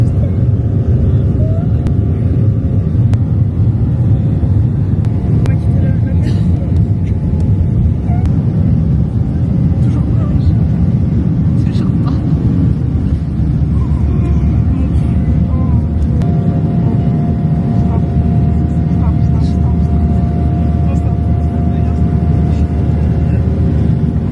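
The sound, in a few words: airplane taking off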